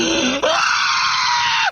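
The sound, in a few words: recording of a man screaming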